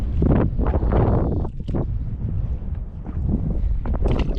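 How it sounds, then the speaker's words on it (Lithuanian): Strong wind buffets a microphone on a small fishing boat out on the water during perch fishing, a loud, close, gusting rumble that stays unbroken throughout with no talking. "tik labai vėjas pučia"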